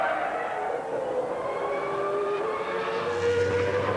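A 2000-season Formula One car driven by Mika Häkkinen into the last corner, a high engine whine with rising and falling pitch lines held steady for several seconds, moderately loud against a broad background roar.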